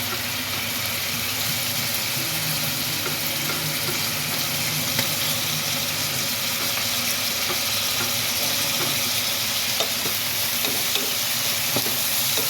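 Chopped tomato goes into a pan of onion and garlic sauteing until light brown for chicken puchero, giving a steady close sizzle and hiss with soft stirring scrapes throughout.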